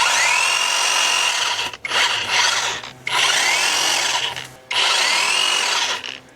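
Givilo 20-inch cordless hedge trimmer cutting small branches, three loud buzzing bursts of the reciprocating blades separated by short pauses, close and without speech.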